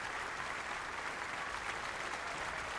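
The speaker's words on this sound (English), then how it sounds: "Big applause from the crowd for frame ball." A steady wash of crowd applause greets frame ball in a World Championship snooker semi-final between Mark Williams and Mark Selby, even and moderately distant, with no individual claps standing out.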